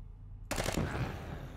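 A rapid burst of automatic gunfire in the video game Quasimorphosis: Exordium erupts suddenly after a quiet moment, the shots rattling quickly and then trailing into a rumbling echo.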